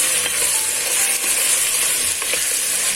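Potatoes going into a pot of chicken and vermicelli soup, heard as a steady hiss and sizzle with light stirring scrapes, close up and continuous.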